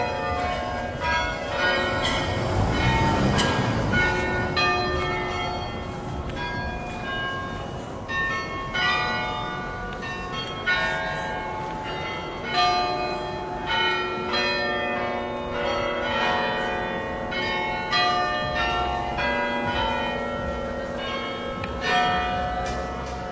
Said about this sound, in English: Sorry, I got distracted by the bells.